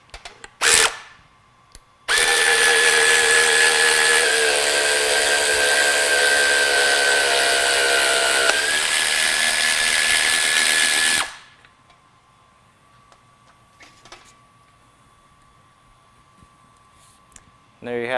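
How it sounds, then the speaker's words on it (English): An air ratchet drives a bolt into a separating plate during fabrication, with a sharp burst, then a loud, steady whirring run of about nine seconds that stops abruptly, followed by faint clicks and handling noises. "use an air ratchet or manual ratchet in order to drive the bolt"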